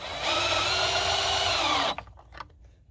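A power tool with a 10 mm socket runs up bolts on a 2011-2019 Ford F150 air/oil separator install, giving a steady whirring drone for nearly two seconds before cutting off into a few faint clicks.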